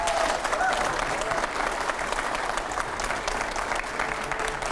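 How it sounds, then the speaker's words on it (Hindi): Loud, sustained applause from a studio audience on a television news debate set, dense clapping mixed with crowd noise that carries on steadily throughout. "एक बार और जोरदार तालियां हो जाए"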